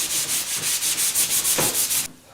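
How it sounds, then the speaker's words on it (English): Dry 180-grit sandpaper rubs back and forth over a Honda Sabre motorcycle part, about ten quick even strokes in a steady rhythm, close and alone. "I'm going over this now with some 180 just dry, just to give it a little extra tooth for the glazing putty"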